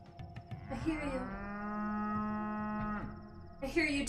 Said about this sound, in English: I hear you, dear cow.